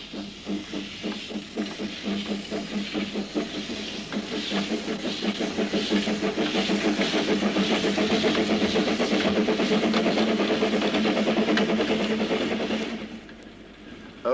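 A locomotive hauls a very full train on a narrow-gauge line, its steam exhaust chuffing rhythmically close by and quickening into a steady hissing beat before it cuts away near the end.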